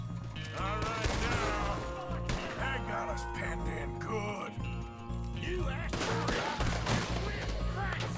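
Rapid gunfire in the Western video game Red Dead Redemption 2, dense overlapping shots in continuous volleys, loud and close, with game voices and a player talking over the shooting.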